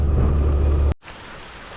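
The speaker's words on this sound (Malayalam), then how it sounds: "രക്ഷയില്ല നല്ല മഴ" Heavy rain pours down on a canoe trip through the mangroves of Mandrothuruthu on Munroe Island, a loud, dense downpour that cuts off sharply near one second and returns as a softer, steady hiss.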